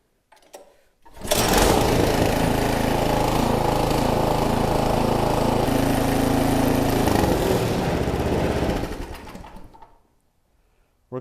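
Toro snow blower engine pull-started, catching after a brief cord pull and running at a loud, steady small-engine clatter for about eight seconds before cutting off.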